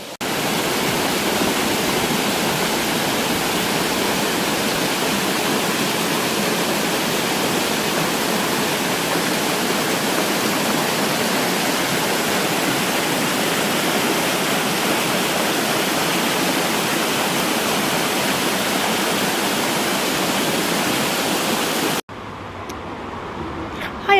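Waterfall on a river in the city of Bath gives a dense, constant rushing roar, close and loud, with no breaks for over twenty seconds before it cuts off abruptly near the end.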